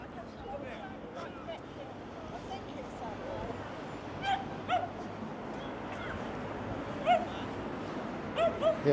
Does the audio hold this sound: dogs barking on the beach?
yes